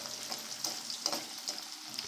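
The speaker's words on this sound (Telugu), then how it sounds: "ఇవి కూడా సిమ్లో పెట్టుకొని వేయించుకోవాలి" Bitter gourd frying in oil on a low flame, a soft continuous sizzle with faint crackles and light stirring, close and fairly quiet.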